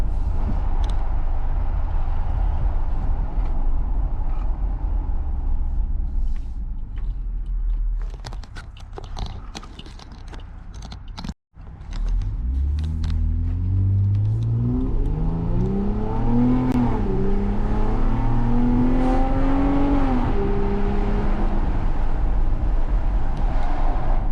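A 2021 Ram Warlock with a 3.6 Pentastar V6 and upgraded exhaust cruises with a deep drone, dips briefly, then accelerates hard with rising, stepping engine and exhaust tones through the gears, loud and close from inside the cab with the windows open.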